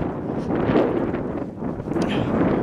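Steady wind buffets the microphone, a continuous rushing roar with gusty swells and no other clear sounds.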